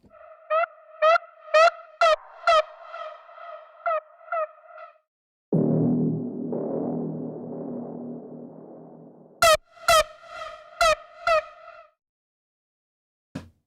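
Synth notes from a Keepforest Devastator patch pulse in quick repeated bursts with echoing repeats, broken by a long buzzy sustained tone, then more staccato delayed blips trailing into silence.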